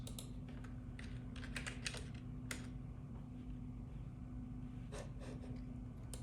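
Quiet clicking of keys on a computer keyboard as a short word is typed, a few scattered bursts of taps close by against a faint steady hum, with no talk.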